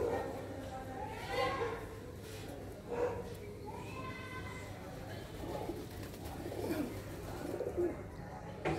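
Pigeons coo softly in short repeated phrases nearby on a terrace in the morning, with people talking over them and faint outdoor background noise.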